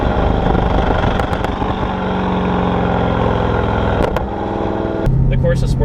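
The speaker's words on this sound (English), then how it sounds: "the car pops like amazing whenever you let off the gas" Corvette C6 Z06 with a Corsa Sport exhaust, loud engine drone from inside the car that breaks into a few sharp pops as the throttle lifts, with a voice talking over it.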